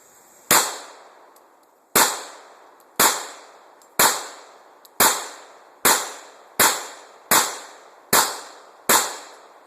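A Smith & Wesson M&P 40 pistol fires ten sharp, loud shots at a 15-yard target, evenly spaced about a second apart, each with a short echoing decay and no talk.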